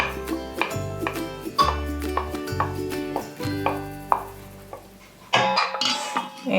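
Sautéed caramelized onions and chopped bacon stirred into a quiche egg mixture, with repeated clinks and scrapes of utensil against bowl over steady background music.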